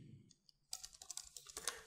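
Computer keyboard typed on in a quick run of close, soft key clicks while entering a Linux command, after a short quiet pause.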